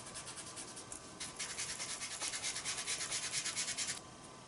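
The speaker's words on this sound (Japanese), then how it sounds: "コットンを4つ折りにして先ほど削った薄い方のオレンジ色を先に塗っていきます。" Folded cotton pad rubbing pale orange soft pastel powder onto paper, a steady close scratchy swishing of back-and-forth strokes, louder through the middle and stopping near the end.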